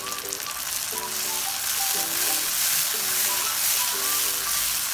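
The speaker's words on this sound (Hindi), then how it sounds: "मैंने 3 से 4 मिनट इसको फ्राई कर लिया" Chicken keema with whole spices fries in a pan, giving a dense, steady close-up sizzle and crackle. Faint voice-like tones sit underneath.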